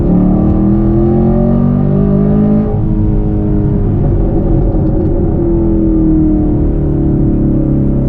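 A 2020 Camaro SS 1LE with a K&N intake revs steadily at high RPM, a loud, dense throaty exhaust drone that shifts pitch partway through; the exhaust sounds off at high RPM.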